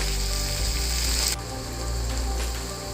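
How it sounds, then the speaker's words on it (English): Onion frying in a pan on a home stove, a steady close sizzle with scraping and rubbing of a utensil against the pan, briefly louder at first and then settling into a softer continuous crackle. "We will fry the onion till the brown color comes."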